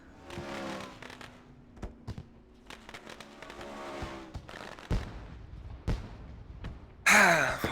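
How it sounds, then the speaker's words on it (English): Fireworks burst after a sprint car race at Williams Grove speedway: a string of sharp pops and thumps scattered across several seconds, fairly distant, over crowd noise, ending in a loud dense crackling burst. "The fireworks are going off."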